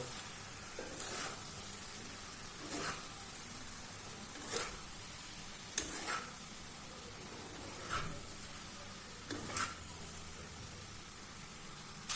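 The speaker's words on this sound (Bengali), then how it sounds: "আমি এটাকে এর মধ্যে অ্যাড করে দিচ্ছি, দিয়ে আমি পুরো জিনিসটাকে একসাথে মিক্স করে দেবো।" Boiled rice being stirred into navaratna pulao in a pan, with a steady low sizzle underneath and soft scraping strokes repeating every couple of seconds, fairly quiet and with no talking.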